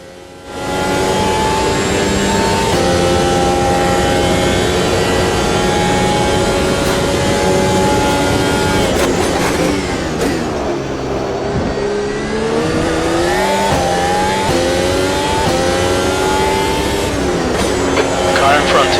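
Race car lapping Monza in a racing video game, its engine droning loudly and steadily throughout with rising and falling pitch through gear changes and corners, under speech.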